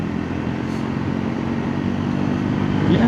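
A motorcycle engine rumbles steadily while riding a winding hill road through BR Hills, with a constant low drone and wind noise that grows slightly louder toward the end.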